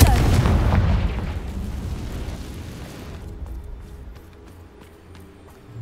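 A Confringo fire spell explodes in a Hogwarts video game: a heavy, loud boom at the start that rumbles and fades away over several seconds.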